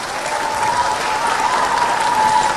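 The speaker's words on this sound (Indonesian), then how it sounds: "boleh kasih tepuk tangan sekali lagi dong Pak Jokowi dan Pak JK" A studio audience on the Indonesian talk show Mata Najwa gives Jokowi and JK a sustained round of loud, even applause, many hands clapping close together without pause.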